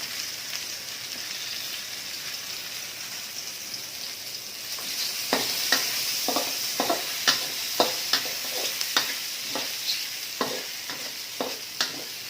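Sausage and vegetables stir-fry in a pan with a constant hiss of sizzling oil. After a few seconds, a regular series of sharp scraping strokes from stirring joins in, loud and close.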